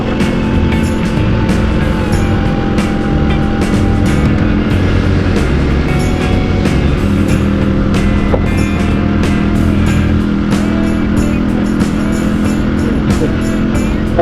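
Motorcycle riding along a road on the way home from the sea, a loud, close, continuous engine drone with steady rumble and wind buffeting throughout, no talk.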